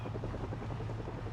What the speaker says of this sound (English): That is the helicopter.